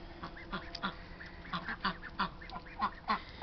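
Pekin ducks quack repeatedly in a farmyard bird enclosure, a steady run of nasal calls from several birds at close to moderate distance, with no talking.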